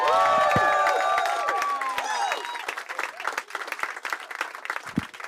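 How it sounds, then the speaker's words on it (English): A Chicago stand-up comedy audience applauds and cheers for a comedian. A brief swell of tonal sound at the start gives way to dense, crackling clapping that carries on to the end. "Start clapping right now for Skylar Higley, everybody."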